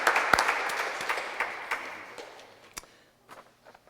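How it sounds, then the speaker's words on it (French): A congregation at a Mass applauds, a burst of scattered clapping that thins out and fades to a few last claps. "On applaudit les gens d'Ottawa."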